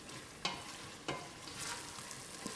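Tomatoes fry gently over low heat with a steady soft sizzle, broken by a few sharp stirring scrapes and clicks from the pan.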